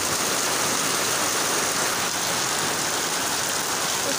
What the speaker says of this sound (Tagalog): Kusog na kayo ang ulan ug hangin.